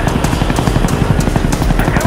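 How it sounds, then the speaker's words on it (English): A called-in helicopter in Call of Duty: Black Ops multiplayer, with a loud, rapid rhythmic rotor chop and scattered game noise. "I'm actually just about to call in this chopper"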